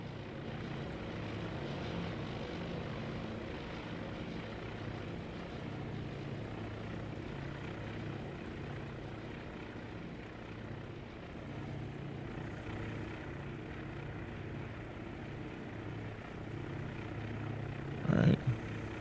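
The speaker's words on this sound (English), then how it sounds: "I love when these guys take off in formation like this" Propeller aircraft in Task Force Admiral take off three abreast down a runway at Midway, a steady droning engine hum throughout with a brief sharp burst near the end.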